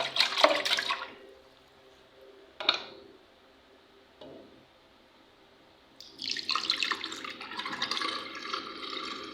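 Pork is rinsed under a running kitchen tap in short bursts: a splash of water, two brief gushes with quiet gaps between, then a longer steady stream near the end.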